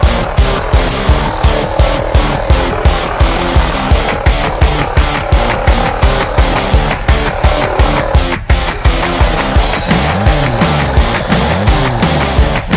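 Mini RC drift car rolling across a small desk surface, a steady high buzzing motor with rapid rhythmic ticking pulses throughout, close and continuous, with a whine shift near the end.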